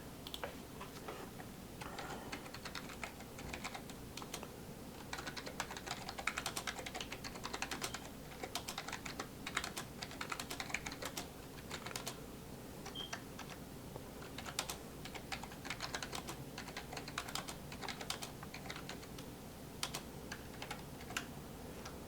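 Notes are typed on a computer keyboard in a steady stream of quiet, rapid key clicks with brief pauses, faint and close, with no voices.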